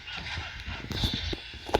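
Horse hooves clip-clopping up close in a short burst of uneven steps, with mumbled voices and some rustling in the background.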